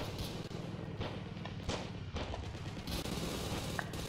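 Gunfire fills a battle in the WW2 game Ravenfield, with steady rifle and machine-gun bursts and scattered louder cracks, fairly faint overall and with no talking.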